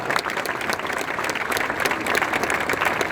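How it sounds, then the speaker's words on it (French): A crowd at the podium ceremony of the Four Days of Dunkirk cycling race applauds a rider, giving dense, continuous, fairly loud clapping throughout. "Merci de l'applaudir plus fort encore."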